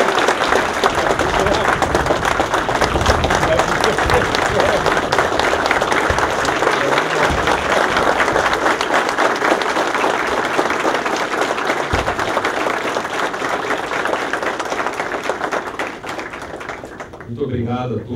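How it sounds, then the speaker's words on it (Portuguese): Sustained audience applause fills a solemn council session awarding an honorary citizenship title in Campinas, steady dense clapping from a crowd lasting nearly the whole stretch before fading out at the end. "uma salva de palmas aí"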